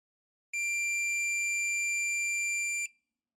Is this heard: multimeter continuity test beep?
yes